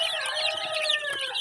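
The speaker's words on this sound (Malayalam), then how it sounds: "നാടൻ കോഴി, പുള്ളിക്കോഴി," Native spotted and black chickens cluck and call loudly and close together in a short burst, with no speech.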